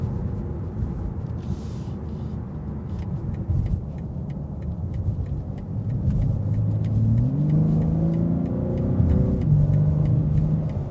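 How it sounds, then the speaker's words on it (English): A 2026 BMW M3 Competition xDrive, with no mild hybrid assist, pulls hard from inside the cabin: a steady engine rumble swells midway into a rising rev sweep that climbs, then drops back with each shift. "you're just getting the raw power out of the engine"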